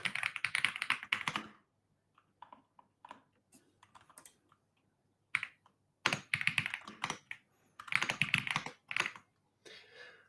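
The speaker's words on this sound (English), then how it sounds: "So I'm frantically typing my commands." Rapid bursts of typing on a computer keyboard, close and crisp, with clattering runs of keystrokes separated by short pauses and scattered single taps.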